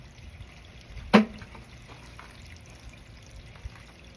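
A single brief gush of tap water over fish fillets being rinsed at a cleaning station, one short splash over a quiet background.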